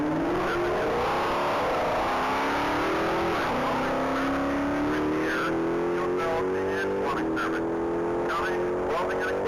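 A Dodge Hellcat accelerates down the Texas Mile track, its engine note rising steadily through the gears as it speeds away, loud and continuous, with crowd noise and an announcer's voice underneath.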